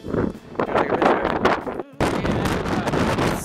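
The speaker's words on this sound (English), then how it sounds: "It's so windy." Strong wind buffets the microphone high on a mountain, a loud broadband roar that drops out briefly near the middle and then returns.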